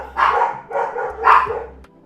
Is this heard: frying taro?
no